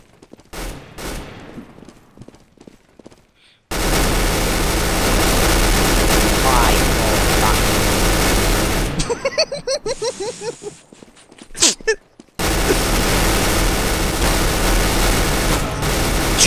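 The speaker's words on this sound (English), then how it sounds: "I'm gonna try your thing and buy the Negev, see what happens." A Negev machine gun fires continuously in Counter-Strike: Global Offensive, a loud, long sustained burst that breaks up into scattered shots and then resumes. Players talk around it.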